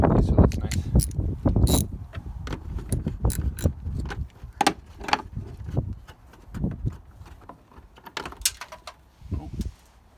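Wrench working loose the bolts on a Ford Crown Victoria, a run of close, sharp metallic ratcheting clicks and clanks in uneven bursts, fading and thinning toward the end, with no talk over them.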